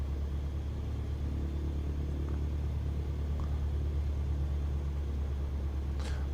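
A light aircraft taxiing at Cannes Mandelieu, heard as a steady low engine drone and rumble that stays even throughout, close and continuous, with no voices over it.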